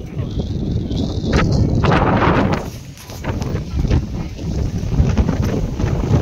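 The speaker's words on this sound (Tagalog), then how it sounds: "Ulan, lakas ang hangin." Strong wind and rain buffet the microphone in heavy gusting rumbles on a night walk in Phnom Penh, Cambodia, loud and close, with voices faintly underneath.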